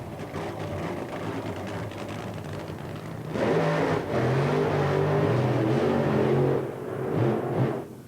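Drag racing cars of 4,000 to 5,000 horsepower roar at Santa Pod, a distant engine hum swelling into a louder sustained rumble midway before easing off.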